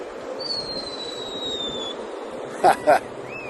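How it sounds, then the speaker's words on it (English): Two quick sharp pops of fireworks, fairly distant, over steady outdoor crowd murmur at Port Canaveral, with a thin whistle-like tone drifting earlier. "Sound like fireworks."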